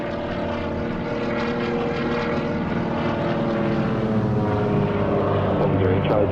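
Propeller aircraft engine droning steadily in flight, a small plane flying near Salt Lake: a constant, loud, even hum with a buzzing rhythmic texture that holds throughout without a break.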